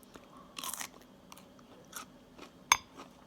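Crisp bites into a fresh no-vinegar dill pickle, a few close, dry crunches followed by quieter chewing and one sharp snap near the end, with no talking.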